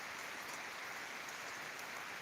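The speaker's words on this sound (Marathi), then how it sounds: "दोन दिवस झालं तुफान पाऊस येत आहे" Heavy rain pours down steadily, a dense, even hiss of water with no pauses and no voices.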